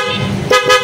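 An aftermarket loud horn fitted to a Honda ADV 160 scooter gives a few short, loud blasts close by, with a steady tone running underneath.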